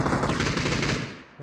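Rapid automatic gunfire in PUBG during a ranked match, a continuous dense burst of shots at moderate distance that tapers off at the end.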